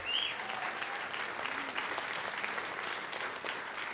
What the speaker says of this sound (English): Clap for him again.